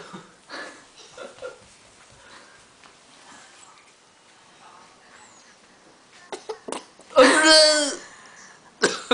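A young child coughs hard in one loud, spluttering burst after drinking water, following quieter stretches of adults talking and soft indoor noises, with a last short sound at the end.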